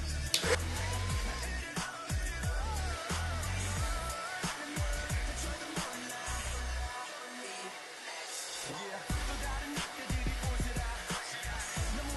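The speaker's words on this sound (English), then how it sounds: "now I'm going to be using the cold blast button to set the hair" A hair dryer on its cold blast setting runs steadily through the whole stretch, drying and setting hair with a constant airy roar, close and fairly loud, with small shifts as it moves.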